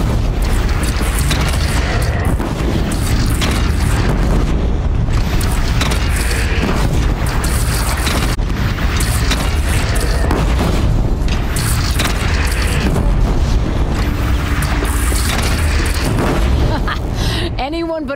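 Cannon fire and explosions in Horizon Zero Dawn: a loud, continuous barrage of booming blasts and battle din, with voices calling out over the chaos.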